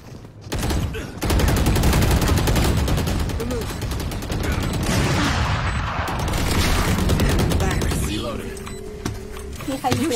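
Rapid gunfire bursts and booming shots from the tactical shooter game Valorant, loud and sustained for most of the stretch, with a player talking over the action.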